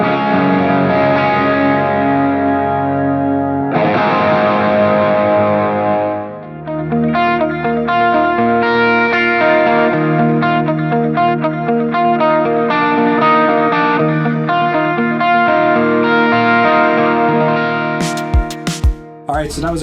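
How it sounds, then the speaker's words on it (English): Electric guitar through a Source Audio Ventris reverb pedal set to a bright shimmer reverb with octave-up and delay: sustained, ringing chords bloom into a lush shimmering wash, played alone and loud. "adding in a bright Shimmer Reverb with the mix dial in just a little bit fills in the gaps"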